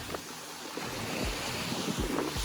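Waves wash onto a Caribbean beach in soft surges, with steady wind buffeting the microphone throughout.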